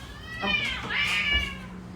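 Cats in a home kitchen give a couple of drawn-out, rising and falling meows at moderate volume, with a faint steady hum beneath.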